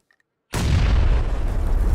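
A grenade goes off in the battle-royale shooter PUBG: after a brief near-silence a sudden loud blast hits, then a dense roaring rumble carries on at full strength to the end.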